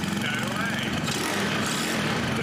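Small engine of a mini jeep revving under light throttle, a steady buzzing drone close by that rises slightly in pitch partway through, with no speech over it.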